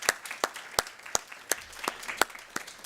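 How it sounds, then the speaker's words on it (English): Scattered clapping from a small audience at a rural entrepreneurship summit, sharp individual claps at an irregular rhythm rather than a full roar. "Let's applaud these folks."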